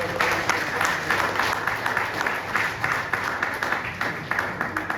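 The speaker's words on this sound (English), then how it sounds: "A round of applause" Warm applause from guests at a lunch honouring football legends with the Kaizer Chiefs chairman, a dense, steady rain of clapping that holds at a fairly loud level throughout.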